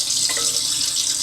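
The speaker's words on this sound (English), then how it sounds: "I'll fill this size pan up with some water here." Tap water runs into a cooking pan in a kitchen, a loud continuous splashing hiss close by with no talking.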